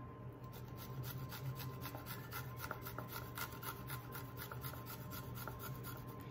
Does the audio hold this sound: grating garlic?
yes